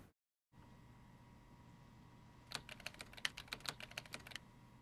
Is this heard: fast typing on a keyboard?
yes